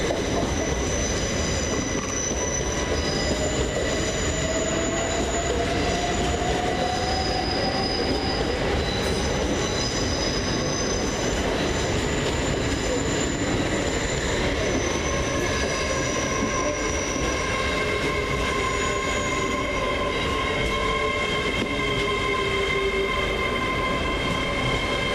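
A Great Western Railway train moves through Reading railway station, with loud rumbling, squealing wheels and long high whines building over the platform noise, close and continuous throughout.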